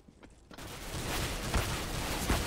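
Gunfire in the video game CS:GO, a dense rattle of shots starting after a quiet half second and running steadily, moderately loud, with a few sharper bursts.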